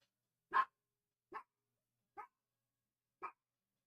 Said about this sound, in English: Still barking.